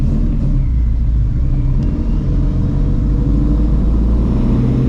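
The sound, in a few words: supercharged Shelby GT350 Mustang on E85 accelerating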